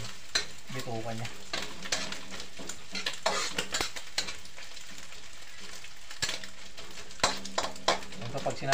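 Chicken innards and intestines fry in a pan, sizzling steadily with scattered sharp pops and crackles, while a utensil scrapes and stirs against the cookware; a voice speaks briefly at the start.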